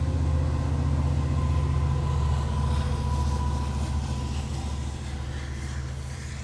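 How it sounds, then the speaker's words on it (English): A train rolls past with a loud, continuous low rumble and a faint squeal of wheels, steady throughout and fading slightly toward the end, with no talk over it. "Sorry, there's a train."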